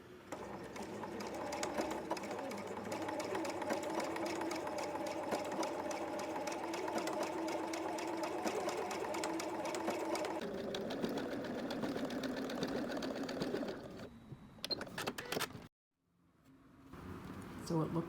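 A sewing machine stitches a blind hem on fabric, running with a steady, close mechanical whir for most of the stretch before it slows and stops, with a speaking voice alongside.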